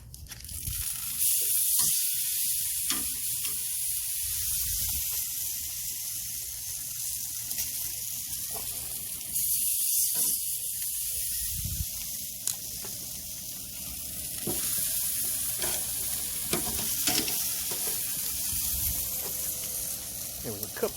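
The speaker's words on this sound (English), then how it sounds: "Let's make them sizzle." Steady loud sizzling of pork spareribs and country ribs on a 500-degree Masterbuilt 560 grill, a continuous hiss with occasional pops and crackles, with brief talk faintly underneath.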